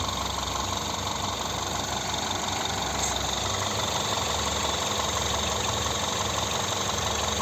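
A 2011 Peugeot 5008 1.6-litre petrol engine idles smoothly and steadily, a constant close-up mechanical hum with faint ticking, no revving and no voices.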